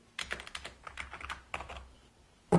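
Keys clatter on a KR 6300 quiet backlit gaming keyboard, a quick run of soft, muffled clicks in an irregular typing rhythm, close up, ending with one louder thump.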